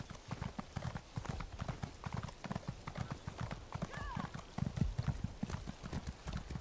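A horse's hooves clip-clopping in a steady trotting rhythm while riding along a beach in Elder Scrolls Online Morrowind, fairly close and continuous, with a brief whinny partway through.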